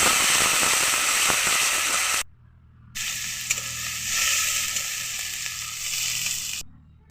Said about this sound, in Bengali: খুব সামান্য পরিমাণে জল দিয়ে ভালোভাবে কষে নিতে যতক্ষণ না মশলা থেকে তেলটা ছাড়বে